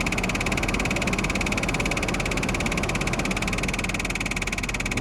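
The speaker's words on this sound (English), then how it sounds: "Sounds like the blower motor." A faulty blower motor in a Jeep's heating and defrost system gives a loud, continuous rattling, croaking drone with a steady whine running through it, close-up and unbroken for several seconds, with no talking.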